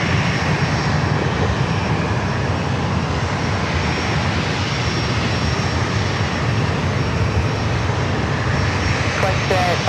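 An American Airlines Airbus A321 jet departs San Diego airport, a loud, steady broadband engine roar that holds for the full duration, with faint radio chatter in the mix.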